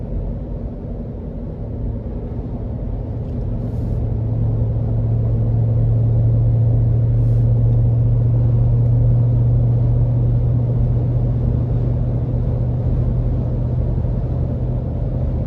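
A 2023 Ford F-250 Lariat Ultimate pickup with a 7.3 V8 cruises along, giving a steady, low cabin rumble that swells slightly partway through, heard alone with no talk.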